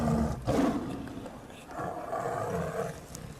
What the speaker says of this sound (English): The tiger hasn't eaten since leaving Greece.